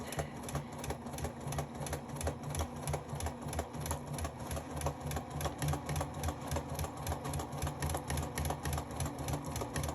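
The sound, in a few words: sewing machine stitching side panel seam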